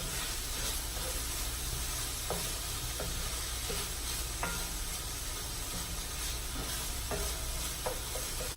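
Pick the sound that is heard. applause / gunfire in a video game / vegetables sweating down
vegetables sweating down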